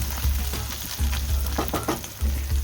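Ginger-garlic paste sizzles hard in a hot pan for an omelette curry, with steady spitting broadband hiss and a few stirring clacks, close and loud with no talking.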